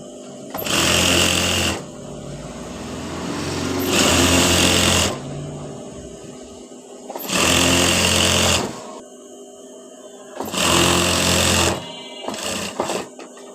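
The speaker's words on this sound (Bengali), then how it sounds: "এখন আমি আরও হাফ ইঞ্চি নিচে থেকে আরেকটা সেলাই দিয়ে নিব" A sewing machine stitches elastic into a salwar waistband in four loud, close bursts of rapid whirring, each a second or so long, separated by quieter pauses.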